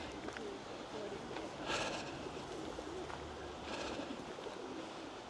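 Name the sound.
pigeons cooing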